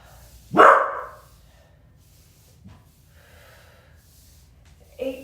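A dog gives one sharp, loud bark or snort close by, then falls quiet, with a faint breathy sound near the end.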